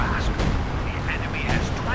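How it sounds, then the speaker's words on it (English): Company of Heroes 2 game battle with 152mm artillery fire, a dense continuous rumble of booms and blasts throughout, loud and close, with a commentator's voice talking over it. "152mm artillery."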